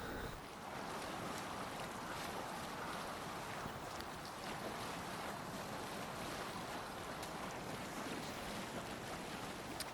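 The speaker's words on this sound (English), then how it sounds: "It's pretty speedy, this boat." A boat in Assassin's Creed Valhalla cuts steadily through water, with a constant rush of waves and wind noise, fairly quiet and unbroken throughout.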